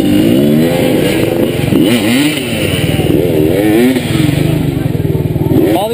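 Dirt bike motorcycles rev and idle at a crowded water crossing on a motocross track, their engines rising and falling in uneven bursts as people talk nearby.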